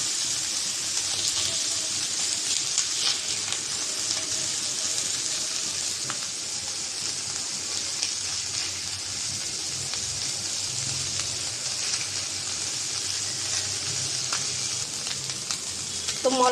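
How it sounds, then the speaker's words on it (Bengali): Small mola fish fry in oil in a kadai, giving a steady, bright, close sizzle that runs unbroken throughout with faint scrapes, no one speaking. "তো মলা মাছটা ভেজে নিয়েছি"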